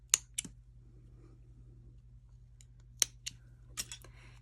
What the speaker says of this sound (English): we can then just snip off these ends.